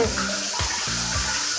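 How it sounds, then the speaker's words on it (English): Steady running water from a tap fills the whole short stretch, a continuous broadband rush with no voices over it. "so I'm listening to a lot of water"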